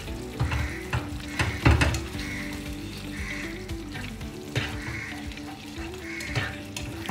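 Turmeric powder is stirred into food frying in a pan, a soft crackling sizzle with intermittent scraping and clunking from the spoon, heard close and fairly quiet with no speech.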